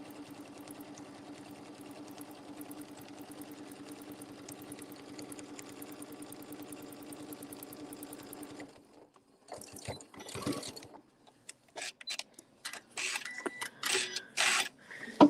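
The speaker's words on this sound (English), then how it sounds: "I'm going to edge stitch all the way around" A sewing machine edge stitches all the way around a fabric Easter placemat, running at a steady, even rhythm for about nine seconds. It then stops, leaving scattered handling noises and brief voice fragments.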